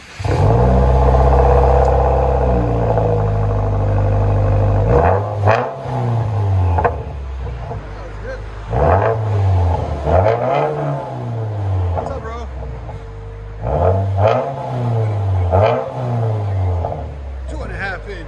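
A straight-piped 2021 Subaru WRX turbo exhaust, loud and close, with a sustained high idle drone followed by a series of sharp revs that climb and fall back.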